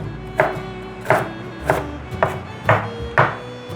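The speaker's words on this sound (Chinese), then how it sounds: "把红萝卜切碎" A knife chopping carrot on a cutting board: six crisp, evenly spaced chops at a steady, unhurried rhythm, close and clear with nothing else heard.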